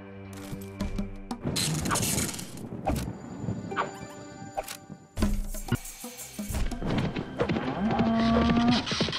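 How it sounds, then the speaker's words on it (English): A cow moos in the video game Worms 3D, one drawn-out bovine call layered over busy game effects, crashes and thumps, loud and close throughout. "That is a cow."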